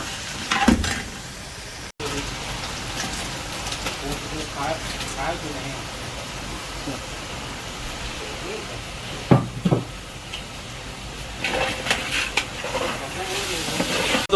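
Fish biryani masala sizzles and hisses in a hot pan as coriander and mint are sautéed, a steady frying hiss with stirring clatter under ongoing talk.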